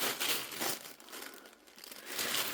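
Paper label torn off a ball of Aran-weight acrylic yarn, a steady crinkling rip lasting a couple of seconds, close and fairly quiet, with no voices.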